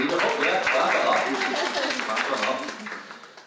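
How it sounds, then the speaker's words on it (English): Audience applause at a congressional briefing, a busy patter of many hands that starts full and slowly fades toward the end, with a voice talking over the clapping. "clap it up"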